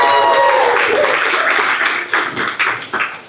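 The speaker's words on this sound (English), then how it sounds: "So let's give Meg a round of applause as well" Audience applause at a public-sector technology panel during a tech week event, a dense burst of clapping that fills the room and then thins into scattered claps toward the end.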